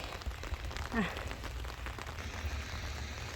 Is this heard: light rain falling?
yes